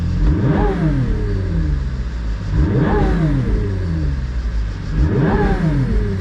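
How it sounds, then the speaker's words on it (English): A Pagani Utopia's V12 engine revs loudly and falls back three times in a regular rhythm, each swell rising in pitch before dropping off. "And now listen to the V12 engine noise."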